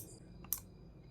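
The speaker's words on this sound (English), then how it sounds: "That clicking sound you hear is the relay switching on and off." A relay in a remote-controlled AC light circuit gives one short, crisp click, close and fairly quiet, over a faint steady background hum.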